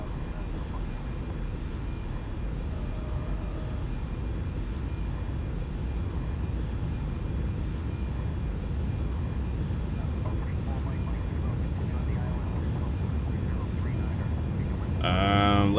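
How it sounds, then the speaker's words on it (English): A jet airliner takes off in the X-Plane Mobile flight simulator, its engine roaring as a steady, broad wash that slowly swells over the whole stretch, with no talk over it. "Alright guys, we're taking off."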